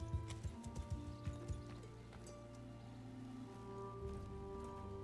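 Horse hooves in Mount & Blade II: Bannerlord, a few soft clopping steps early on, then a faint steady patter like rain over a low background drone.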